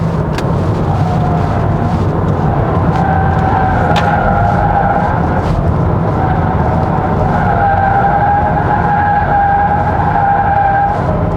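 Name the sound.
2024 VW Jetta 1.5 TSI engine accelerating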